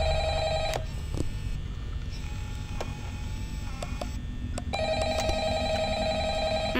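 A telephone rings in the Five Nights at Freddy's video game, its repeated electronic trill loud and close, with a pause between rings over a low ambient hum.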